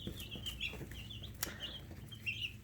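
Baby chicks in a sunny brooder chirp in high, repeated peeps, with soft flapping and scratching mixed in, a steady low hum underneath and no talk.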